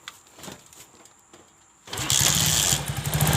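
A Treseda/Kaisar motorcycle being repaired for a gear-engagement fault clicks and cranks through a few quiet attempts, then the engine catches and roars up to a loud, steady idle close by.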